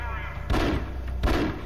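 Pistol fire in the video game The Conduit: two sharp, loud shots about three-quarters of a second apart, each with a short booming tail, over a steady game background hum.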